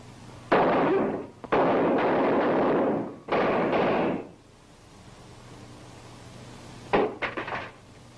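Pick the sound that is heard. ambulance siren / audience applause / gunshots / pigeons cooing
gunshots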